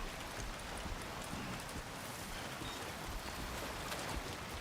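Steady rain in the video game Death Stranding 2, a dense, even hiss of falling water close around the listener with faint patter on surfaces, continuous and alone with no voices.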